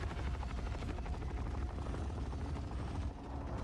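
Helicopter in the video game Forever Winter: a steady, loud rotor chop thumps continuously, sounding fairly close and dominating the scene without any talk.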